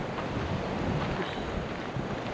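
Strong seaside wind roars and buffets the microphone in a dense, continuous rumble with a hissing wash on top, loud and unbroken throughout, with no voices.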